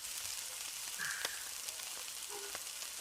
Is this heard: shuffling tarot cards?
no